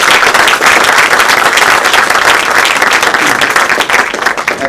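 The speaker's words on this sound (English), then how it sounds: "I just want to give him a round of applause" An audience at a peace seminar in an aviation museum breaks into steady, loud applause that sustains for several seconds, many hands clapping together at close range.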